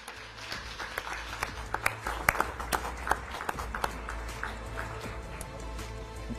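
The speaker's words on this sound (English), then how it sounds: "So a round of applause to all of you" An audience claps at a Betway SA20 Season 2 cricket player auction, a moderate spread of scattered hand claps with sharp individual peaks over a low hum, fairly even through the whole stretch without talk.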